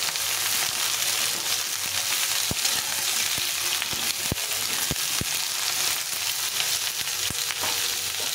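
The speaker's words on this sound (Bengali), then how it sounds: "তো বেগুন পটলটাকেও একটু ভেজে নিতে হবে।" Eggplant and pointed gourd pieces frying in oil for a mixed vegetable dish, a continuous near sizzle broken by occasional sharp clicks of a spatula against the pan, with no voices.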